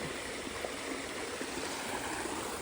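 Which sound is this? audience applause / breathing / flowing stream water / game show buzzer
flowing stream water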